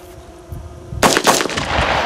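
Soldiers fire weapons during a live-fire training drill in a forest; after a second of low rumble, a loud burst of rapid, sharp shots breaks out close by and keeps cracking in repeated volleys.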